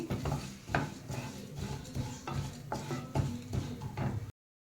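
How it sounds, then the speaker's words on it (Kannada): Urad dal frying in a pan until brown, with a soft steady sizzle and repeated scraping stir strokes from a spoon, fairly quiet. "ಇದು ಚೆನ್ನಾಗಿ ಬ್ರೌನ್ ಆಗೋವರೆಗೂ ಸ್ವಲ್ಪ ಹೊತ್ತು ಫ್ರೈ ಮಾಡಿ"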